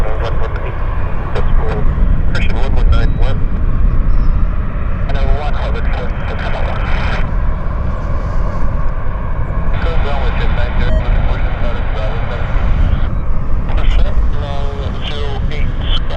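Airliner engines roar steadily at Vancouver Airport (YVR), a continuous loud rumble with shifting tones, while radio chatter and voices talk over it throughout.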